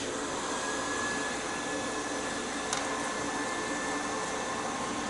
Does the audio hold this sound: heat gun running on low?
yes